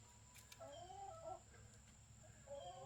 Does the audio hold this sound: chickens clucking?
yes